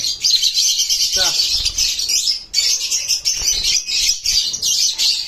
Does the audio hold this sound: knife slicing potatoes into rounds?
no